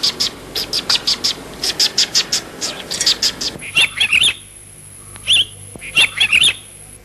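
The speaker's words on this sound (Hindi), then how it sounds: "ये सुंदर चिड़िया अब इस जंगल में नहीं रहेगी" A bird chirps in a forest, rapid bright tweets repeating in quick bursts, loud and close, first over a busy background and then in cleaner, separated phrases.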